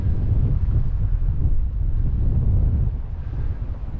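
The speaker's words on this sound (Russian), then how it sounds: "Скалы, ветер дует, хорошо дует." Steady wind buffeting a rocky sea coast with a view toward the Strait of Juan de Fuca on San Juan Island, a continuous low roaring rush with slight swells in strength, close and loud throughout.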